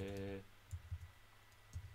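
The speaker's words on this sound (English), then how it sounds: "Terrible typing." Computer keyboard typing during a guitar warmup session, a few separate soft key clicks spread across the stretch after a brief burst of other sound, fairly quiet and close.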